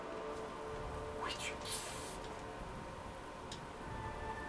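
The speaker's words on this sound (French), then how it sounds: "je sais qu'il pleut au-dessus de ma tête" Rain falls steadily in Kingdom Hearts 3 as a faint, even hiss with scattered drops, plus a couple of brief brighter splashes, continuous throughout with no talking.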